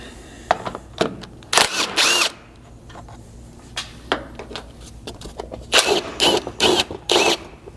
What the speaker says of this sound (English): there's just 2 more fasteners that need to be removed here to drop this plastic skid down.